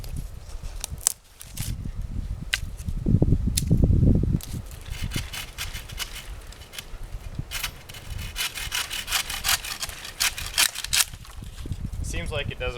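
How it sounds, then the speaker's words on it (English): Hand saw cutting through wood, rasping back-and-forth strokes that stall at first and then settle into a steady rhythm, close and fairly loud, with brief talk mixed in. "Seems like it doesn't want to get going right away."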